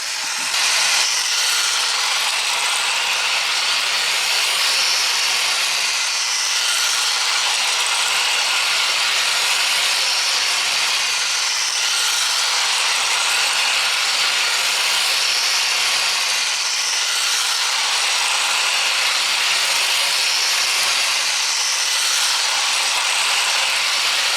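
Continuous clattering mechanical whir of a motorized Teenage Mutant Ninja Turtles toy subway train running on its track, steady and close, with ratcheting gear noise and no talking.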